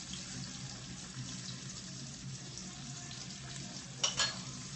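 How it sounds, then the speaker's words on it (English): Red bell pepper and garlic sautéing in a pan, a soft, even sizzle close by, with a brief burst of clattering near the end. "We're going to saute that for about 5 minutes"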